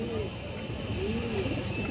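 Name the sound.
female pigeon cooing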